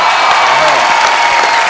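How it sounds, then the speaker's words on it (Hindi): Studio audience applause with scattered cheers on a Bollywood comedy show featuring a Sufi singing duo, a dense steady clatter of clapping sustained evenly throughout the short burst. "और फिर ताड़ी बज गई है"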